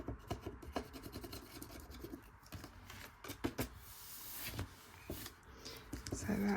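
A scratchy tool rasps across a scratch card in short, uneven scraping strokes, close and fairly quiet, with rubbing and small knocks in between.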